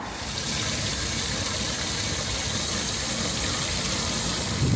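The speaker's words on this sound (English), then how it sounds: "I've got my watering can and I'm just going to fill up with water now." Tap water pours steadily from a wall tap into a watering can beside a motorhome, a continuous broadband rush and splash that holds an even level throughout, close by and with no voices.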